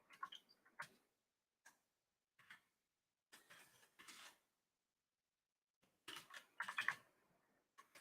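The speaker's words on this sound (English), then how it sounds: "I'm typing it up." Quiet, scattered bursts of key clicks, a few isolated taps then quick flurries of typing, separated by pauses.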